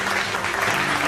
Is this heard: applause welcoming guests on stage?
yes